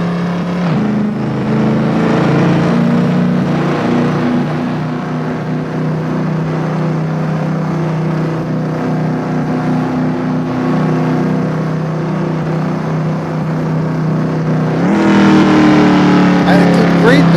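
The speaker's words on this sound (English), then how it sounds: "It's a great back-off sound if you take it easy with this car." A car engine hums steadily up close, revving and easing off with a shifting tone, then swelling louder near the end, while someone talks over it throughout.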